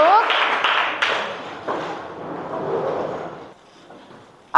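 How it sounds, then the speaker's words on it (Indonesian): A mathematics class claps together in a classroom, a burst of clapping that peaks early and then fades into scattered claps and murmuring voices before stopping. "tepuk tangan buat kita semua"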